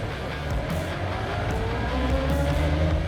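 A Ginetta race car launches from a standstill, its engine note rising steadily and loudly close by with a rough, buzzing edge, and no talking over it.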